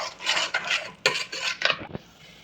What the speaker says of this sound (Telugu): ధనియాల పొడి మిర్చి పౌడర్ వేసి బాగా కలుపుకోండి ఇలాగా